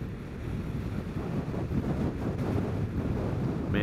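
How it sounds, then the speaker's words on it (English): Rushing wind buffets the microphone of a rider on a Vespa GTS 300 Super Sport, a loud continuous low roar with no speech. "that wind is just shifting around. Now it's blowing from the left."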